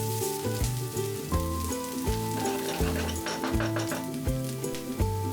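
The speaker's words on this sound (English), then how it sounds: "Add 2 onions chopped and fry it until the onion is nice and soft." Chopped onions fry in hot oil in a pan, giving a steady close sizzle under loud background music.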